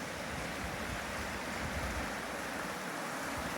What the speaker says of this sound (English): Looks like the creek is running even swifter today.